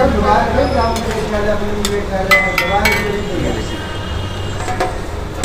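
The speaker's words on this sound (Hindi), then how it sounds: "तो हल्का हल्का चलाते रहे बीच में ताकि जो अंदर का जो बेस हो वो चिपके नहीं" A mutton curry base sizzles in a pot while being stirred, with a loud, constant frying hiss broken by a few sharp scraping clinks of the spoon, as someone talks over it.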